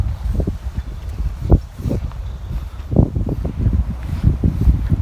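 Strong outdoor wind buffets the microphone during a walk, with a continuous low roar and gusty thumps, and no talking.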